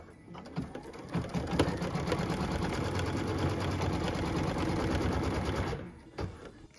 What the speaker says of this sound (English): now that we have that shadow color in our machine, we're going to start by stitching the placement line for the Joy to the World sign